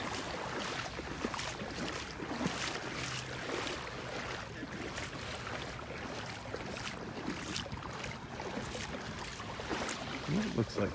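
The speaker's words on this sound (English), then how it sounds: "As you can probably hear, I'm just walking along the water here, in the water, just off the beach." Feet wade through shallow sea water just off a beach in North Naples, Florida, making a continuous soft sloshing and splashing under steady wind and surf, with faint voices in the background.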